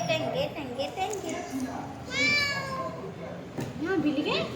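A cat meows several times in short rising and falling cries, close and clear, with children's voices chattering around it.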